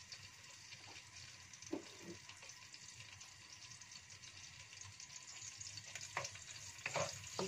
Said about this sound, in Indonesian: Goreng cabenya dulu ya guys ya,